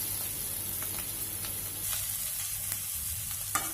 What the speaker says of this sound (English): just stir it continuously by using a frying spoon